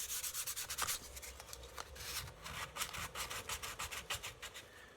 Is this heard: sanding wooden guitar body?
yes